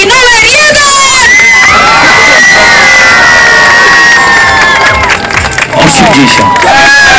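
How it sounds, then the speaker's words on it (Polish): A beach crowd at a wet T-shirt contest in Władysławowo cheers, whoops and shouts loudly and continuously, with high children's and women's screams rising over a dense roar of voices. "Zróbcie hałas dla kandydatki numer 1!"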